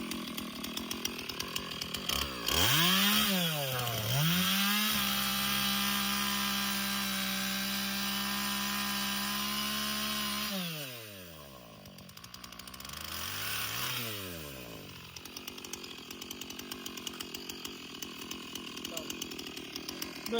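A chainsaw cuts firewood, revving up and holding a loud, steady whine through the cut, then dropping to idle and revving again, with outdoor background noise and occasional voices.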